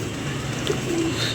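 A pigeon kept in a loft gives a short, soft coo close by over a low steady background, with no talking.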